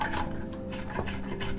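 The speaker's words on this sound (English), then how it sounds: "you can just get your spoke shave" A spokeshave shaving wood in a heritage carpentry workshop gives steady, close rasping strokes, several in quick succession, with no talk over them.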